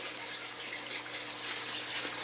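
Steady background water flow from an aquaponic system runs throughout, a constant soft rushing hiss with no voices.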